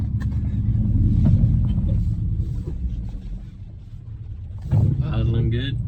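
A 2011 Chevrolet Silverado Z71 LT pickup idles with a steady low rumble, close and fairly loud, while people talk over it and a brief louder surge comes near the end.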